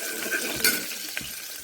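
Garlic, cinnamon and cloves sizzle in hot oil, a steady bright crackle with a brief louder burst of spattering and a few soft stirring knocks, no voices.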